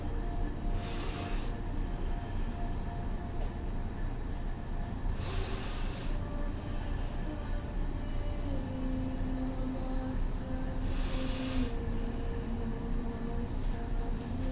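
Slow, deep breaths during a yoga backbend with hands on the heels come as three airy swells of inhale and exhale over a steady low background hum, close and soft.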